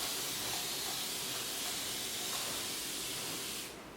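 Water mists from a spray bottle onto a curly shag wig with bangs, a continuous close, broad hiss lasting several seconds before cutting off.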